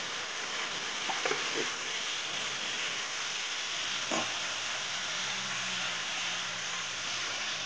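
Chopped tomatoes fry in a pan over moderate heat, giving a steady, close, hissing sizzle throughout, with a few faint clinks from stirring.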